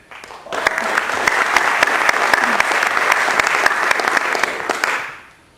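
A conference audience at a tech meetup breaks into steady, loud applause that swells quickly, holds for several seconds, then fades out.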